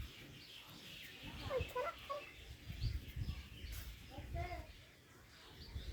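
Chickens give faint, scattered clucks and squawks close by, mixed under people talking in a quiet outdoor setting.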